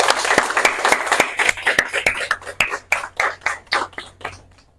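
Schoolgirls at Collège Marie-Anne applauding themselves, a scattered round of hand claps that starts dense and thins into separate fading claps before dying out.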